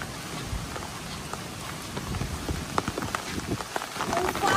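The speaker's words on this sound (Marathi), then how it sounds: "झाडांचं एवढं पाणी पडतं, असं वाटतं पाऊस पडतोय" Water dripping heavily from trees in thick fog on a hillside resort path, a steady patter like rain with scattered sharper drops, close and moderately loud, growing slightly busier toward the end.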